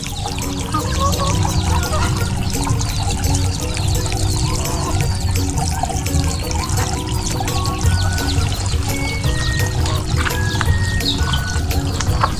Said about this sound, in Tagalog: Ito po ang free flowing ko na gripo.